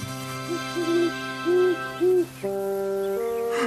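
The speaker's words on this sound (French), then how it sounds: "Le gros hibou habitait le creux d'un arbre centenaire." An owl in an animated children's cartoon gives a run of short, soft hoots over steady sustained tones, followed by a longer held note.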